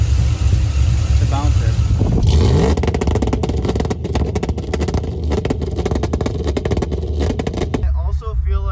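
Someone's Chevrolet Silverado revving against an MSD 2-step launch limiter, loud engine with rapid popping stutter from the limiter and exhaust, cutting off near the end, with people talking over it.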